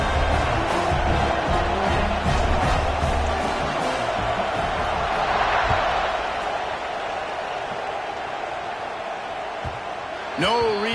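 A football stadium crowd during a bowl game kickoff, a steady broad roar that lingers through the whole stretch, loud and diffuse, with a brief swell near the end.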